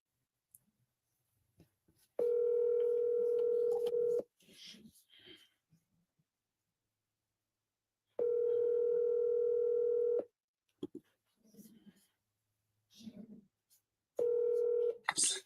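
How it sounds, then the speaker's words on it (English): A telephone dial tone sounds in three steady bursts of about two seconds each, separated by quiet gaps with soft breathing and brief dialing beeps, all close and clear. "let's go ahead and make our first phone call"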